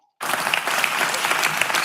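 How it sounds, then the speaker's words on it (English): Audience clapping in a television debate studio bursts in suddenly after a brief silence, then holds as a loud, dense, sustained round of applause. "You must be clapping like now."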